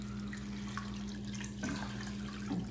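Water poured over rice and pineapple peel in a cooking pot: a steady splashing pour with a low hum behind it, close by and continuous with no talk.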